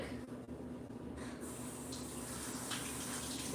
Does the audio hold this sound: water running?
yes